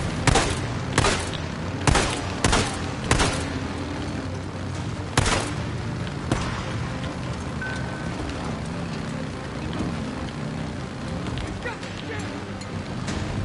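Gunfire in Days Gone story-mode horde fighting: several sharp, loud shots crack in quick succession over the first few seconds, then fewer, softer reports fade into a low rumbling ambience.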